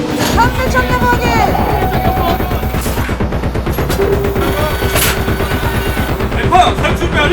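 Artillery and small-arms fire at a large combined live-fire military drill, with dense, rapid, close volleys of shots and booms continuing throughout, with voices mixed in.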